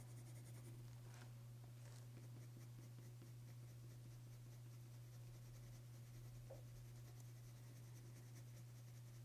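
Coloured pencil moving lightly across paper with a soft, steady scratching, faint and close, over a constant low electrical hum.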